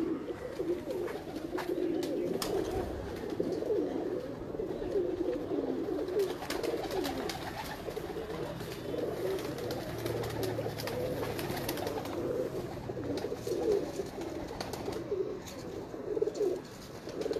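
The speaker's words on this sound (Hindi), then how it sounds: "यार मज़ा आ गया जी आज पे कबूतर देख के" Breeder pigeons coo continuously in a loft, many overlapping throaty calls forming a dense, steady murmur close by, with faint handling noises beneath.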